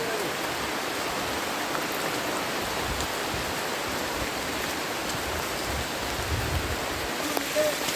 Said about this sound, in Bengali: পাহাড়ে বৃষ্টির পানি আর পাহাড়ের ঝিরি পানি পড়তেছে।